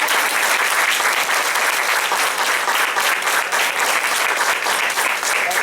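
A congregation gives a warm round of applause for Anne Marie at a church service, dense steady clapping filling the room at full volume from start to finish.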